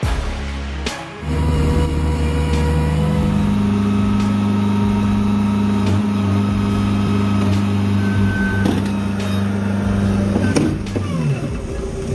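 Excavator diesel engine running, a loud steady low drone with strong harmonic hum, punctuated by sharp metallic clanks and knocks throughout.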